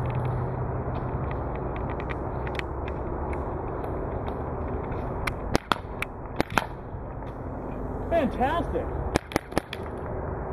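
A Planet Eclipse Etek 3 paintball marker loaded with fluorescent orange JT Spectra ProFlex paint fires in scattered sharp cracks, a few quick bursts standing out over a steady outdoor background hiss, with a brief spoken exclamation midway.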